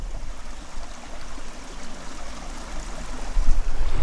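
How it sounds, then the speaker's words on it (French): A stream running through a garden on former farm fields, with views of mountains: a steady, close rush and trickle of flowing water that swells slightly louder toward the end, with no voices. "Ils ont un ruisseau qui passe"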